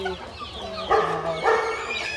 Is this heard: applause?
no